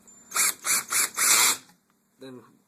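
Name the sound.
power drill on low torque driving screws into LG TV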